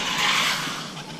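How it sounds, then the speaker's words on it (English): Tyres of an RC car spin and skid on a parking lot surface, giving a continuous, loud hissing squeal for just over a second. "anybody watching this really even able to touch the throttle before the tyres are lighting up"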